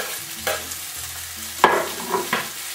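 Green onions stirred into Mongolian beef frying in one pot, with a soft sizzle and a few sharp spoon-scraping strokes close by, no voices.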